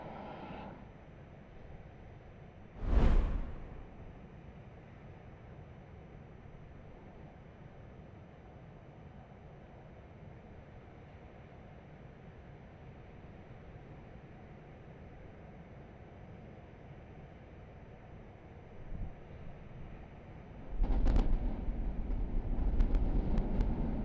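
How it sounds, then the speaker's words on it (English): SpaceX Super Heavy V3 booster static fire of 33 Raptor 3 engines, heard as a faint, distant, continuous low rumble with a brief loud crackle early on and a swelling roar in the final seconds. "let's listen in again to the first ever 33 engine Raptor 3 static fire on a V3 super heavy booster"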